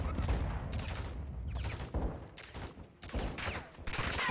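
Scattered gunfire and bursts in Call of Duty: Modern Warfare II (2022), fairly faint and distant-sounding, arriving in repeated uneven clusters across a few seconds.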